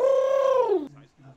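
A human voice imitates a pigeon's coo: one long, sustained harmonic tone that slides downward at the end, followed by a couple of short, softer murmured notes, close and fairly loud.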